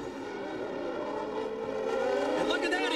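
An Indy race car at the 2000 Molson Indy Toronto, on the Exhibition Place street circuit, gives a loud sustained high-revving engine whine that builds slightly in loudness, with a commentator's voice running over it.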